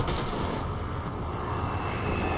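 A bomber nearing in War Thunder, heard from a KV-1B tank: a steady, broad roar of aircraft engines that holds even and loud with no break and no voices over it.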